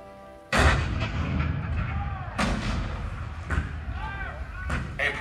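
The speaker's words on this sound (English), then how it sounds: "The cannon spoke for war, bitter, violent, and devastating." Cannon fire at Fort Sumter in the Hall of Presidents show, several heavy booms arriving at irregular intervals, loud and deep, with rumbling decay between blasts.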